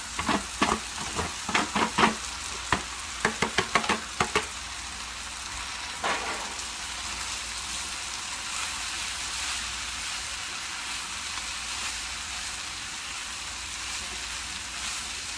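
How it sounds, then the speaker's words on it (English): Cooked rice stirred and fried in a hot pan for veggie Szechuan fried rice, a burst of quick scraping stir strokes followed by a steady close sizzle. "And now we are going to put the main ingredients, our rice."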